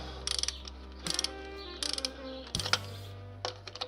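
A ratchet wrench clicks in short rapid bursts as bolts on the EGR valve of a Fiat Croma II with a 1.9 Multijet 8V diesel are undone. Five quick spells of close clicking come over a faint steady hum.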